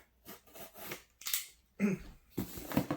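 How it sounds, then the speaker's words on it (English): Tape on a Black Friday unboxing box is cut in a few separate sharp snips and scrapes, close and fairly quiet, with short pauses between each cut. "let's go ahead and cut the tape"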